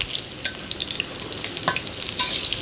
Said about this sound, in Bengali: ডালের বড়াটাই ভাজা করছি।